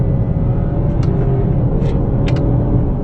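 A 2018 Honda Accord pulls hard under acceleration, a steady close engine rumble and road roar running throughout, with a few brief light ticks or clicks from paddle-shift upshifts scattered on top.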